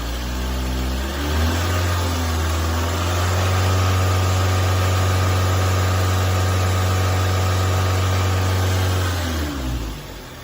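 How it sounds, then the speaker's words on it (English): Car engine rising from idle to higher RPM during a cam and crank position sensor lab test, a steady close hum that climbs in pitch and holds for several seconds before dropping back near the end, with no talking. "as we increased our engine RPM"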